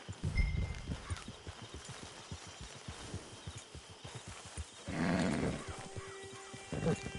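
Horse hooves clip-clopping in a PS4 video game, a steady rhythmic walking gait close by, with a brief louder rustle partway through.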